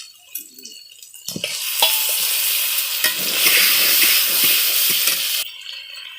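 Meat sizzles loudly as it is stir-fried in a pan, with scraping and clattering of a spatula over a strong, continuous frying hiss that stops abruptly near the end.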